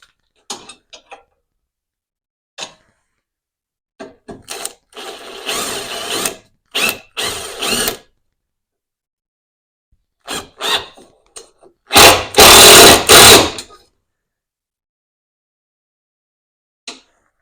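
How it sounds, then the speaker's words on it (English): Screwing a mini PC into place on a model railway command station build: scattered close ratcheting and mechanical clicks with a few short bursts of power-driver whir, separated by silent gaps. "So I'm just going to screw that up here."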